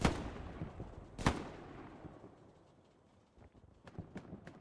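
Gunfire in Hell Let Loose on the Carentan map during a competitive league match: a loud crack near the start, then a heavier boom, then scattered fainter distant shots tailing off.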